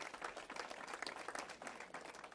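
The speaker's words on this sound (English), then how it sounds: "Can we give a huge round of applause for all the folks that stand behind us collectively?" A crowd applauds steadily and loudly at a public event for the people standing behind the person at the podium, with dense, continuous clapping and no voices heard.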